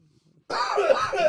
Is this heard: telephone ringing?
no